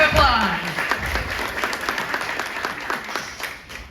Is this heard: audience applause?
yes